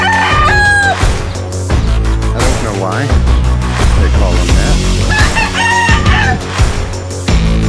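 Fighting roosters in the Cebu city mountains crow loudly and repeatedly, several overlapping cock-a-doodle-doos with clucking in between, close by, while someone talks under them.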